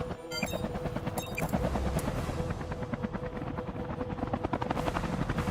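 Helicopters, three of them, in the Front Mission 3 Remake battle game: a loud, steady rotor chop throbbing throughout without a break, with no voices.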